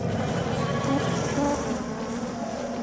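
A mysterious buzzing drones in a cartoon, a steady insect-like hum with wavering tones that holds throughout the short stretch.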